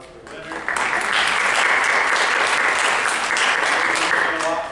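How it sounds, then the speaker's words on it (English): Audience at a freeride ski team parent meeting breaks into applause, a dense sustained clapping that swells quickly and holds steady for several seconds before easing slightly at the end. "Big round of applause for Winter."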